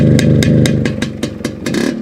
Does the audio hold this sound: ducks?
no